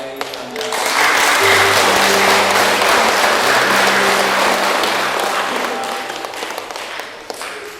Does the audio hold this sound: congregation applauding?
yes